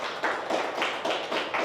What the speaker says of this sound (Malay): Di satu tepukan dulu untuk barisan penajaan saya.